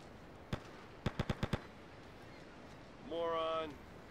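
Gunfire in Grand Theft Auto: Liberty City Stories: a single sharp shot, then a rapid burst of five evenly spaced shots, followed by a sustained tonal whine after a pause.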